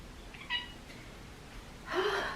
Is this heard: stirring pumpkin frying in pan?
no